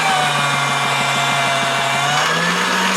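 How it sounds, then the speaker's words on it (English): Motorized pasta machine running polymer clay through its rollers at the thickest setting, a loud steady electric motor whine with a fast rhythmic mechanical chatter underneath, close and continuous. "I have a motor on my pasta machine"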